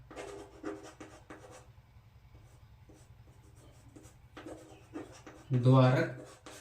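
Chalk scratches on a classroom board in short strokes between stretches of a man's teaching speech, faint and close, with a brief louder burst near the end.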